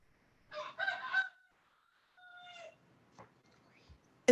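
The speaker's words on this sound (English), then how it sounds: "Is there a rooster in the house? No, he's right outside the Okay, door here." A rooster crows just outside an open door, heard from indoors: a loud, close crow, then a pause and a second shorter crow, followed by a few faint knocks.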